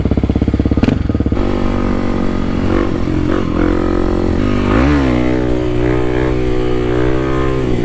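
A KLX dirt bike engine runs while being ridden on a cold day: a loud, close, continuous rumble with throttle blips early on and a rising rev swell around the middle.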